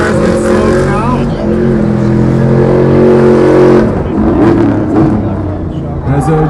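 A Stadium Super Truck's engine roars and revs hard while its Toyota tires spin and smoke, loud and continuous, with an announcer talking over it.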